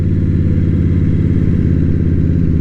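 A 2022 Indian Scout Bobber motorcycle fitted with a Bassani 3-inch aftermarket exhaust rumbles along, a loud, steady, deep engine drone held throughout with no talk.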